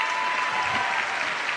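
An audience at a Spanish-language Catholic gathering claps steadily, welcoming a speaker to the stage with an even wash of applause and no voices.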